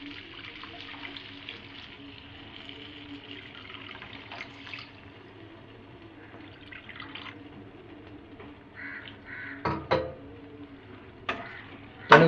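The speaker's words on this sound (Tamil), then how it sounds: "தண்ணி ஊற்றி அது கலந்து விடணும் நல்லா" Chilli chicken in a pan sizzles softly as water is poured in and the mixture is stirred, with quiet scraping and a few sharper clatters toward the end.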